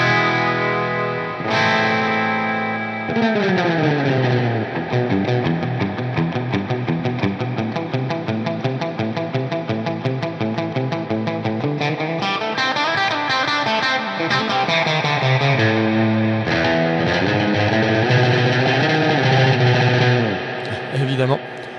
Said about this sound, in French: Je veux une reverb à ressort, elle est là, à l'ancienne.